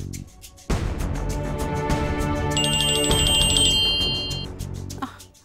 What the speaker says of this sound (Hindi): सरला दीदी का फोन